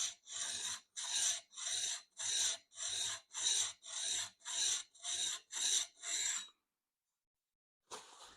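A plane blade is rubbed back and forth on a lapping plate with a few drops of lapping fluid, about a dozen even rasping strokes in steady rhythm, close and fairly quiet, then a pause and one more stroke.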